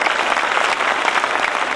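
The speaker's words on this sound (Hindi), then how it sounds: "हम चाहेंगे इन दोनों के लिए जोरदार ताली होनी बजाइए" Loud, steady applause from a crowd at an award gathering, honoring Sunil ji and Arvind ji, dense clapping that continues without a break and with no voices on top.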